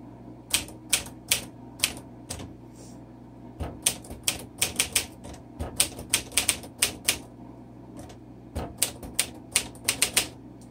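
Typing on a 1951 Smith Corona Silent vintage typewriter, bursts of crisp key strikes in uneven runs with brief pauses, fairly soft and close, alone without talk.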